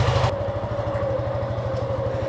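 A motorcycle engine, just after an oil change, catches after a brief crank and settles into a steady, rhythmic low idle, close and continuous.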